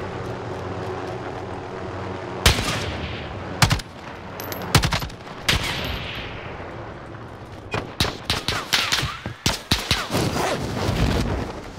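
Gunfire from an M13 rifle in Call of Duty Warzone rings out in sharp bursts and single loud shots, separated by lulls with a constant low background hum, then rapid repeated cracks toward the end.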